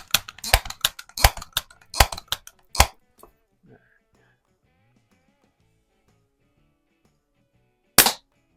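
A 1970 Crosman 760 pellet gun, sold as a Western Auto Revelation, fires at a can, giving a rapid run of sharp snapping cracks and clicks close by, then quiet and one more crisp crack.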